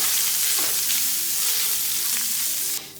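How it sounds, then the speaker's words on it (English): Flour is stirred into chorizo frying in oil for a biscuits-and-gravy breakfast, producing a loud steady sizzle with light stirring scrapes, which softens just before the end. "you're gonna go ahead and just add some flour to it. Start mixing that in."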